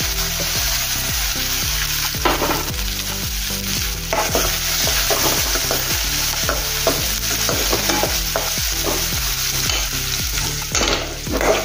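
Ginger, garlic and onion fry in a pan with a loud, constant sizzle, broken by frequent rhythmic scraping and clanking of a spoon stirring against the metal, and no one speaking.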